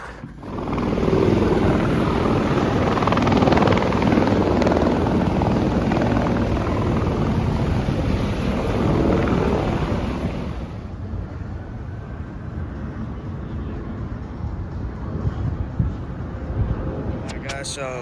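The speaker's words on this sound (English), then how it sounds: "We're here, about to ride a fucking helicopter." A helicopter, about to carry passengers on a private tour in Las Vegas, roars with a steady loud rotor and engine drone that fades partway through, with voices in the background.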